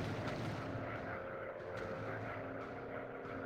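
A warplane droning past in the Quest 2 War Planes flight game, a steady engine roar filling the whole moment with little change in loudness.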